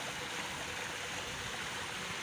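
Water from a drinking fountain runs in a steady, even hiss and splash. It is faint and continuous, with no talking.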